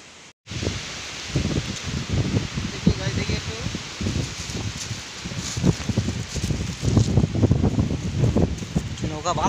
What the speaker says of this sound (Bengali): এই দেখো এই যে হাওয়া হচ্ছে